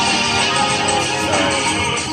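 Vaporwave music plays steadily and fairly loud throughout, a dense, washed-out mix with sustained synth texture and a soft beat, with no voices.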